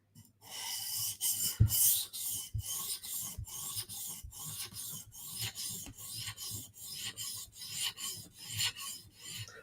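A knife blade is drawn across a 400 grit CBN sharpening stone in steady, repeated rasping strokes, close and fairly loud, with a regular back-and-forth rhythm and no talking.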